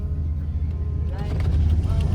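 A car engine idles unevenly after a spark plug repair, a steady low rumble running throughout, with a person speaking over it partway through.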